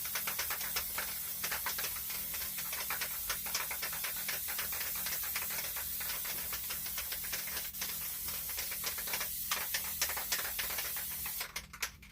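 A spray can sprays sticky adhesive onto a cup, a steady close hiss running continuously with faint rapid ticking underneath.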